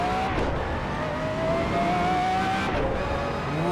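Race car in the Assetto Corsa driving game, engine droning steadily at high revs with rising and falling whine and tyre noise, loud and continuous throughout with no talk.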